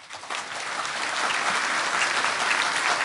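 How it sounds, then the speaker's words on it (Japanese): Applause from an audience after a political speech in Japan, a steady, dense wash of clapping that swells quickly and holds loud and even throughout. "もう一度大きな拍手でお願いいたします。"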